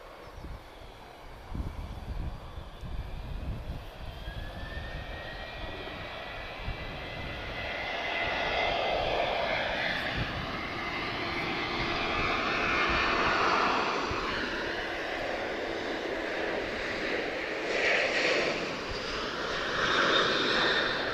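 An airliner on final approach at Lisbon Airport, a distant engine roar that slowly swells and shifts in pitch as it draws nearer, steady and continuous without voices.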